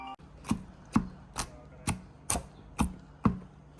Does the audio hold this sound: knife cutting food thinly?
yes